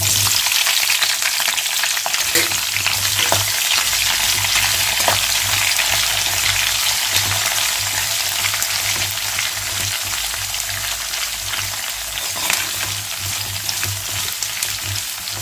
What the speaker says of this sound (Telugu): కాస్తంత కరివేపాకు, ఇప్పుడు సన్నగా తరిగి పెట్టుకున్న ఉల్లిపాయలు కూడా వేసేసుకున్నాము.